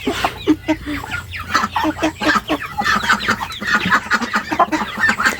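Chickens clucking and calling on a farm, a steady stream of overlapping clucks and short squawks from several birds nearby, with no one talking.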